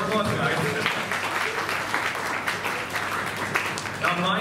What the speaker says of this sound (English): Please give yourself a big round of applause, guys